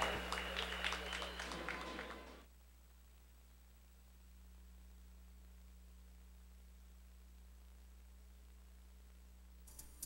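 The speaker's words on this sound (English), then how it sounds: "Let's have another nice round of applause." Applause for the Sheboygan South Varsity Dance Team at a basketball game, a dense crowd clatter lasting about two seconds before cutting to a low steady hum and near silence.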